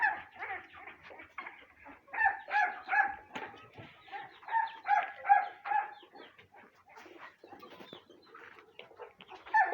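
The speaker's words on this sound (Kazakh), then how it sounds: "Балапандарымды үлкен тауықтарға қостыдан бәрі бірге жүр" Hens and young chicks clucking together, a run of near repeated clucks and cackles in bursts, with softer chirps and scattered animal calls between them.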